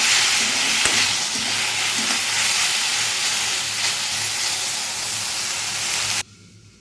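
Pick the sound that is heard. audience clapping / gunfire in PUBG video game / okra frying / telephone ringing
okra frying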